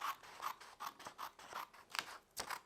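Scissors snip paper in a steady run of about eight short, crisp cuts, close and fairly quiet, with no voice over them.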